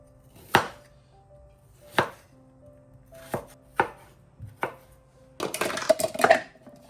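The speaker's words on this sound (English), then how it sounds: "I'm going to finely chop some onions" Onions finely chopped with a knife on a board: five or six sharp, distinct knocks spaced about a second apart, then a quicker flurry of rapid chops, close and clear with no talking.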